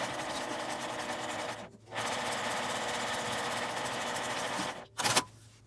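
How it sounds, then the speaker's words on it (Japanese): Sewing machine stitching a disposable face mask with a 5 mm seam allowance, a steady rapid mechanical whir broken by two short pauses, close and alone without talk. "ここを5ミリの縫い代でミシンで縫います。"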